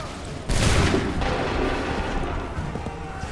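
A musket volley in Assassin's Creed III, one loud massed crack that lands abruptly, then a long rolling rumble that fades slowly over the next few seconds.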